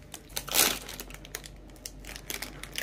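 An Eti Gong snack packet of honey-mustard corn and rice puffs is torn open, a loud burst of crinkling plastic followed by softer scattered rustles and crackles close to the microphone, with no talking.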